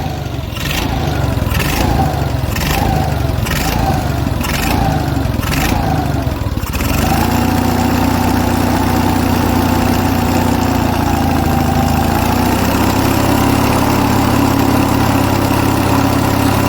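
An Onan US military generator engine runs loud and close, a few rhythmic revving bursts at first, then settling into a steady governed hum near 1800 RPM with a slight pitch shift partway through.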